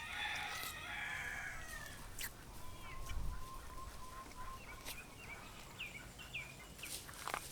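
Chickens on a Jamaican garden property cluck and squawk, with a rooster crowing at intervals, set back at moderate distance amid bird chirps and outdoor ambience.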